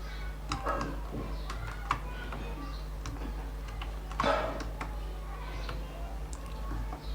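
Quiet computer keyboard clicks come in scattered bursts and short runs during coding, close but soft over a steady low hum.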